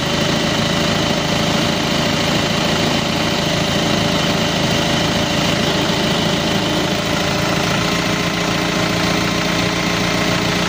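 Engine idling loud and close in a steady, continuous mechanical drone with a rough knocking rattle throughout, no startup or change in pace evident.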